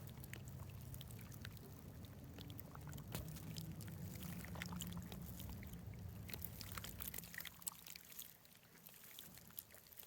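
Calm water at Liberty Reservoir laps and trickles softly and steadily, with low wind rumble and faint scattered ticks from the shoreline, no voices.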